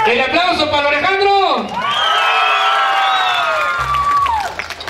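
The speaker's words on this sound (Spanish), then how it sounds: "¡El aplauso para el Alejandro!" Crowd at a jaripeo rodeo in Taxadhó cheering and whooping for a bull rider, loud and continuous, under a drawn-out shouted announcement over the arena sound system.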